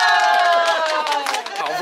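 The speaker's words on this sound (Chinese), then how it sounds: "来，我们热烈的掌声欢迎我们永兴里的里长。" A tour group of Taiwanese visitors in Zhangjiajie cheers and claps to welcome a village chief, a loud, close burst of mixed shouting voices and scattered clapping.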